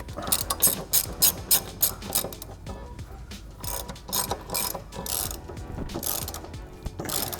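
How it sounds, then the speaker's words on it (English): Ratchet clicks fill the span as a BMW subframe's hardware is tightened up, bursts of quick pawl ticks coming in uneven strokes, close and fairly loud. "it's time to put the subframe back up with the jack stand and then tighten up your hardware"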